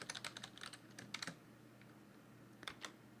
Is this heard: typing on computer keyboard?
yes